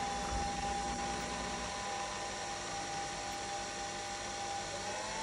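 A Nespresso machine froths milk at home, a steady loud whirring drone with a thin high whine that holds throughout, a lower rumble dropping away after the first couple of seconds.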